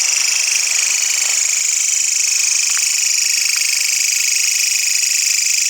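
Steady, high-pitched buzzing trill of a long-horned grasshopper calling, continuous and close, with a few faint clicks underneath and no voices.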